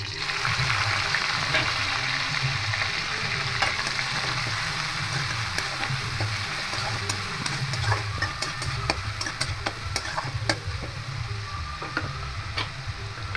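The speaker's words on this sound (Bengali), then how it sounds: "এবার এখানে গ্রেট করা পেঁয়াজটা দিয়ে দেবো" Grated onion frying in oil with bay leaves, cloves and cinnamon, a continuous close sizzle with busy stirring and scraping of a spatula in the pan.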